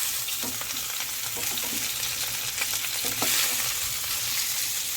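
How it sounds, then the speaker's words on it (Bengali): Bhola fish rubbed with salt and turmeric frying in hot oil in a kadai, a dense continuous sizzle with light spatter and occasional stirring, close and steady with no voices. "এবার নুন হলুদ মাখানো ভোলা মাছটা ভাজার জন্য দিয়ে দিচ্ছি।"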